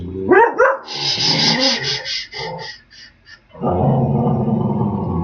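Pet dog Lou lets out short close yips and barks, then a run of whimpering whines, ending in a low continuous growl.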